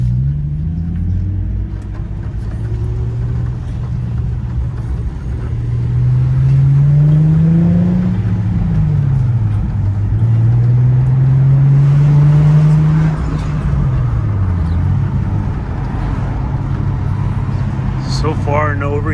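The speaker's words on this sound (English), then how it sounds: "first drive after putting in the coolant, bleeding it out" A rebuilt, previously crashed Infiniti G37 drives on a test run after a coolant refill, its engine rumbling loudly up close with rising and falling revs as it accelerates and shifts, steady road noise throughout.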